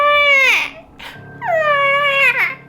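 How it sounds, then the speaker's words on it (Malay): A small child cries in two drawn-out, wavering wails separated by a short sob, close and clear against a quiet low hum. "dengar bunyi tangisan budak kecil"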